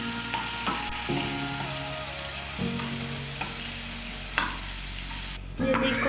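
Turnip and meat frying in oil in a home kitchen pan, with a steady low sizzle under repeated stirring clatter of a spoon against the pan, close and moderately loud, without talk.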